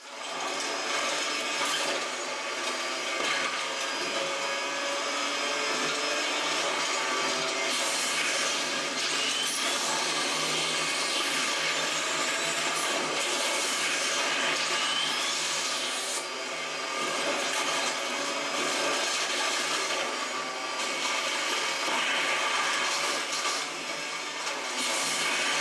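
Asphalt Xtreme racing game played on a Gionee A1 Plus phone: continuous rushing game audio with engine-like roar and scraping effects, steady and moderately loud throughout, with no talking.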